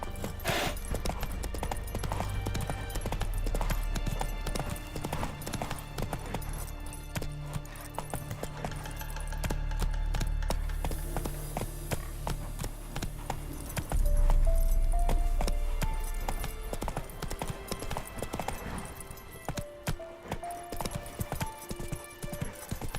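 Hooves of the horse Roach clip-clop in a steady galloping rhythm in a video game, moderately loud over ambient game sounds, with a brief whinny and faint voices at times.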